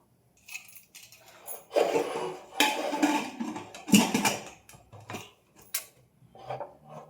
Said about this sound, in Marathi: आता मी शिट्ट्या घेऊन शिट्टे घेते मी झाकण लावते कुकरचं